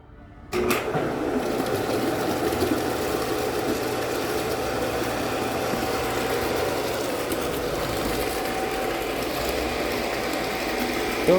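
An electric motor switches on and drives a multistage pump that has just been serviced, settling at once into a steady, loud mechanical whir with a faint rattle that holds evenly for about ten seconds.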